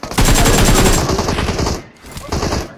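Rapid automatic gunfire in a shooting video game, a loud, dense burst of shots close up, pausing briefly before more fire.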